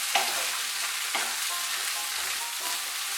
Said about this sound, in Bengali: দিয়ে বেগুনগুলো একটু নাড়াচাড়া করে নেব।